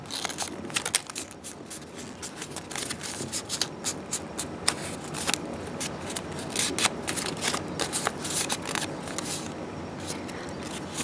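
Origami paper is folded and creased into a rose, with steady close crinkling, rustling and sharp little crackles that continue throughout at a moderate level.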